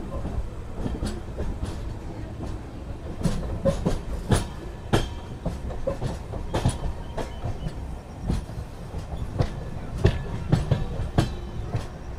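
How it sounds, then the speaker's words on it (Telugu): The Tirupati to Coimbatore intercity express runs steadily after leaving Katpadi Junction, with a rumbling carriage roar and a repeated clickety-clack of wheels over rail joints, heard from inside the train. "కాట్పాడి జంక్షన్ నుంచి అయితే మన ట్రైన్ అయితే బయలుదేరిపోయింది"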